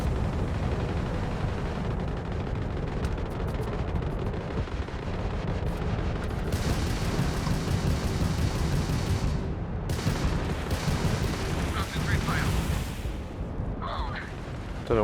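Gunfire in the space game Starfield: continuous dense bursts of shots and booms, loud and close, filling the whole stretch with a few brighter crackling moments near the end.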